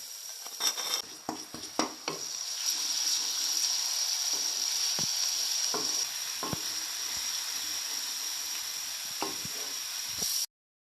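Steady hissing sizzle of garlic paste frying with onions in a pan, with occasional clinks and scrapes of stirring, then it cuts off abruptly.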